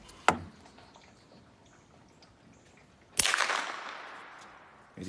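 Two sharp suppressed shots from a Chiappa Little Badger firing CCI .22LR standard velocity rounds, a crack near the start and a louder one about three seconds later with a brief decaying tail, outdoors.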